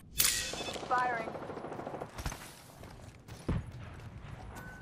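Gunfire in the video game Apex Legends, heard as a few sharp, moderately loud shots and bursts with some clattering in between, mixed with other game sound effects.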